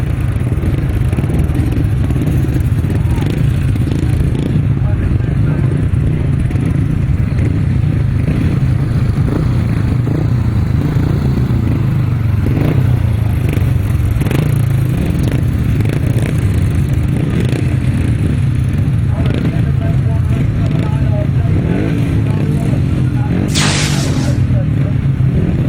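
500cc sidecar grasstrack racing motorcycles roar together in a steady, loud, continuous engine drone at an outdoor grasstrack meeting, with a crowd murmur and public-address talk mixed in beneath.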